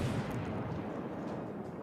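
A Roma battleship's turret salvo in World of Warships, the Tier VIII Regia Marina ship's guns firing in a heavy, rumbling naval-artillery blast that fades into a low, sustained roar.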